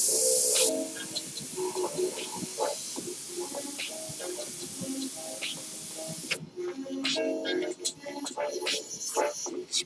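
An airbrush hisses in bursts while painting a Saquon Barkley portrait, close and fairly loud. Softer sputtering follows, with faint voices in the background.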